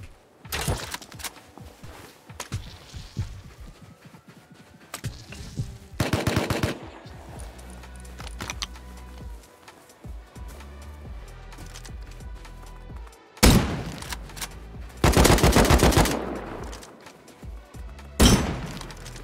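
Rapid automatic gunfire bursts from a video game server match, with several loud clustered volleys and scattered single shots, the heaviest bursts near the end, and no talking.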